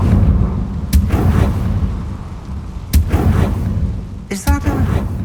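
The Confringo blasting spell goes off in the video game Hogwarts Legacy, with several loud booming explosive impacts over a steady rumbling game background.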